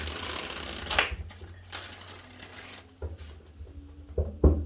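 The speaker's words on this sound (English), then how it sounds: "I'm going to give this 5 shuffles." Crisp bursts of tarot cards being shuffled by hand, a few distinct riffles separated by brief pauses, close up with light handling noise between.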